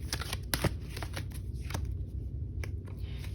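Tarot cards being shuffled by hand, a quick riffling flutter with sharp slaps as cards are pulled, close and clear with no talking.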